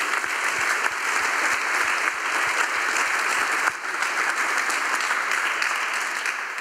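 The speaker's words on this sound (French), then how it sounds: "On l'applaudit, Xenia Chasteau." An audience at a paratennis conference breaks into sustained, dense applause, many hands clapping evenly and loudly for several seconds with a brief dip partway through.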